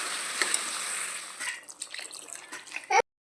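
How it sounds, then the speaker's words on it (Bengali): Water pours into a pot of aloo chicken curry being cooked for gravy, a steady rushing splash that tapers into gurgles and bubbling before a clink and abrupt stop. "তো চলো এরপর জল দিয়ে দেওয়া যাক।"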